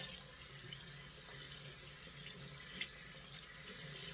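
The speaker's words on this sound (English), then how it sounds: "I'm going to wash the brush out so I can let you see it without the lather in it." A faucet runs steadily into a sink while a Manchurian white badger shaving brush is rinsed of lather, a constant soft hiss of splashing water that is quiet and continuous, with no talk.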